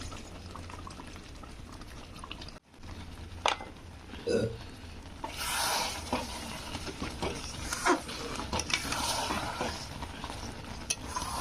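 Mango pickle being stirred with vinegar and ground spices, a wet, uneven churning and scraping that continues steadily, with a few louder clinks and splashes and no voices.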